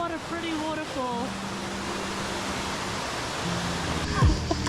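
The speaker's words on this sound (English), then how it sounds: "What a pretty waterfall." Broad, steady rushing water from a waterfall in Italy fills the clip, with a voice talking over it in places near the start and end.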